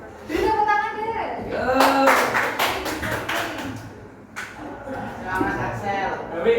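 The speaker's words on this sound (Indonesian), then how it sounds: "Beri tepuk tangan deh." A classroom group claps for a student after a speaking practice. A short burst of scattered hand claps comes in the middle, with voices talking before and after it.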